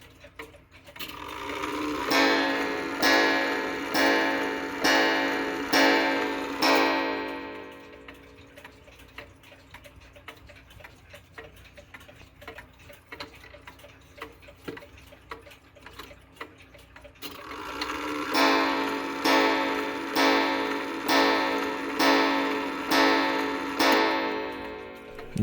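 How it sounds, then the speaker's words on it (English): An 1860s–1870s Seth Thomas column clock with an alarm dial ticks steadily from its escapement, close and clear. Two long runs of even ticks are separated by a quieter stretch in the middle. "in real life you can see the escapement ticking along just a little bit behind the alarm dial"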